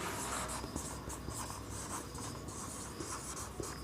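Writing on a board during a maths lesson: continuous scratchy, rubbing strokes with small taps between them, faint and steady under a constant hiss, no voice.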